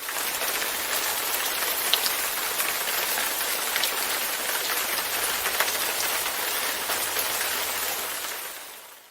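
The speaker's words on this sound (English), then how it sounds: "Raining." Steady rain falls throughout, a dense, even hiss of drops with a few brighter spatters, fairly close and continuous with no voices.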